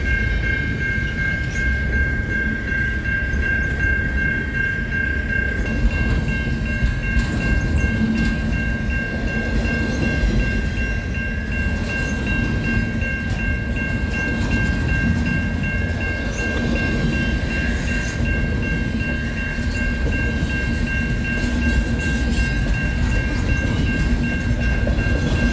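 CN intermodal Q train led by ET44AC and ES44AC locomotives rolls steadily past, a continuous loud rumble of wheels and railcars with a sustained tonal whine and faint flange squeal throughout, no voices.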